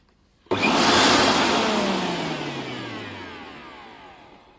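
A loud motorized whir from a 1000-watt Preethi Titan mixer grinder starts abruptly and runs steadily, its pitch slowly sliding down as it spins, with no voices.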